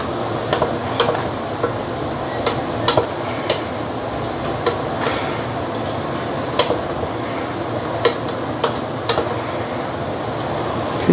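Ginger duck is stirred in a pot, with sharp metallic clinks and scrapes of a utensil against the pot coming at irregular intervals over a low background hum.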